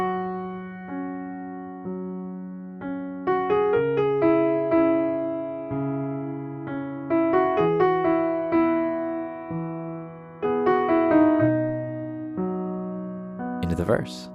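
Solo piano plays a song, slow sustained chords with a melody on top, gentle and close with each chord ringing out before the next, ending in a brief bright flourish.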